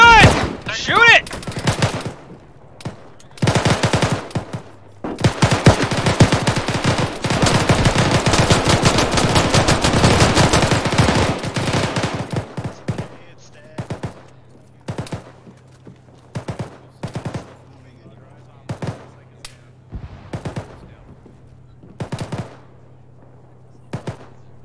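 Video game machine gun fire aimed at a vehicle: long sustained loud bursts early on, then a run of shorter separate volleys spaced a second or two apart, with a low steady hum underneath.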